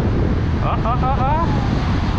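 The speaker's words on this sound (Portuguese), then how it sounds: "E altas ondas, ó" Big ocean waves break on the beach at Taipu de Fora on the Maraú peninsula. They make a dense, loud roar under heavy wind buffeting on the microphone, and a voice is briefly heard.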